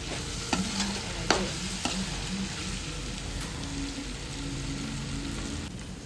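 Tomatoes and onions for chicken curry sauté in a pan, giving a soft, continuous sizzle with a few sharper clinks of stirring early on; close and fairly quiet, with no talking.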